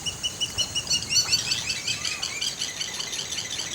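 A small bird gives a desperate, repeated call, rapid high chirps and tweets in quick succession, sharp and fairly close over a faint noisy background.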